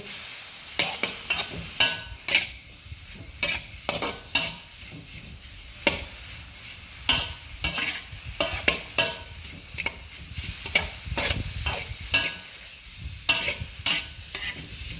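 Beans and pork stir-fried in a pan: a metal spatula scrapes and clacks in a quick, uneven rhythm over a continuous sizzle, close and fairly loud.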